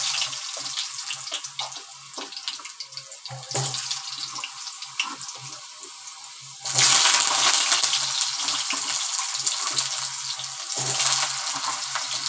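Cumin seeds sizzle in hot oil for a tempering, a continuous bright crackling hiss that swells louder midway and holds steady, close and dense, with no talking.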